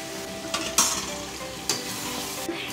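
Meat curry with fresh spices being stirred in a pan, a steady sizzle underneath with several sharp scraping strokes of the spoon, close and fairly loud, with no talking.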